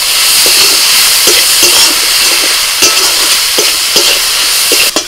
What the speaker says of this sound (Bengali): সবকিছু একসাথে একটু ভালো করে ভেজে নিতে হবে